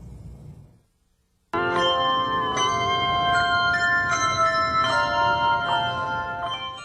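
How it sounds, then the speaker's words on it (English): Mark Twain Middle School bell ringers playing handbells at a 2012 spring concert, a brief quiet pause followed by bright, ringing tones struck in sequence, overlapping and sustaining as the tune unfolds. "Bell ringers from Mark Twain Middle School rang in the tunes at their 2012 spring concert."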